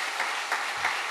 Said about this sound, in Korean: 영광의 박수 드리겠습니다